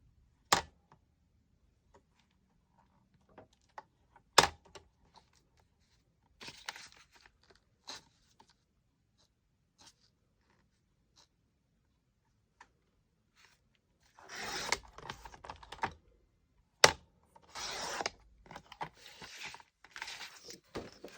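Plain white card stock being cut, heard as scattered crisp snips, scrapes and rustles, with sharp clicks and bursts of scratchy sound separated by quiet gaps, close and fairly faint, no voices.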